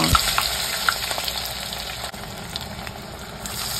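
Plantain bananas fry in a pot of hot oil with a dense, close sizzle and crackle that holds steady throughout, with no voices.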